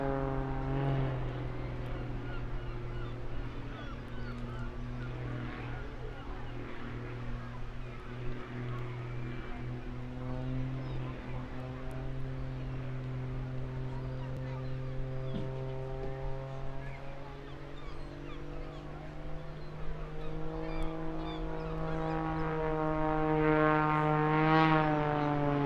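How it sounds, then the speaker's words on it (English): Aircraft engine thrust at an airshow display on the English Riviera as the plane hangs on its tail: a sustained, moderately distant engine drone with steady tonal harmonics that rise in pitch and grow louder toward the end. "Wonderful demonstration of the sheer amount of thrust available to keep this aircraft standing"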